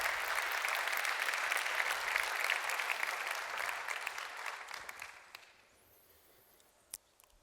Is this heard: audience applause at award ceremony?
yes